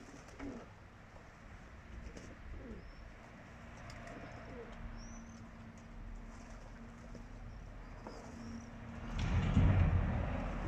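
Pigeons coo softly at intervals in a quiet yard while bathing, with faint chirps and a rise of splashing or fluttering noise near the end.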